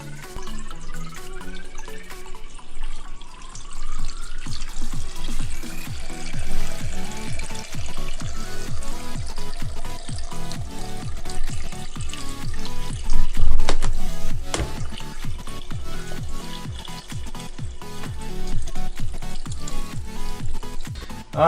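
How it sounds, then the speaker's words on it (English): Water draining from a small 2.5 gallon pico reef into an aquarium tank, a steady close trickle and splash with irregular drips, fluctuating but continuous, a stronger gush midway. "I can just drain it right into the tank and then slide it over"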